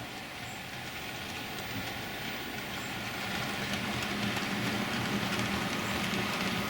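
A steady rumbling clatter of a small train running along track, continuous and fairly quiet, with a hissy, rain-like texture throughout.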